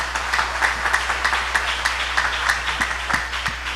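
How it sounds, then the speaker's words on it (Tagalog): Church congregation applauding at a preaching service, a steady wash of many hands clapping with regular rhythmic accents, moderately loud and continuous throughout. "Pwede ba nating palakpakan ng mahal na Panginoon?"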